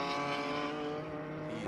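A GT4 race car at Circuit of the Americas (COTA) during a 2020 GT4 Sprint X race holds a steady, droning engine note at high revs for a brief moment.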